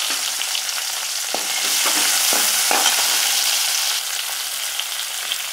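Onions sizzling and frying in a pan while being stirred, a steady loud crackling hiss with a few sharp scraping stirs, no voices.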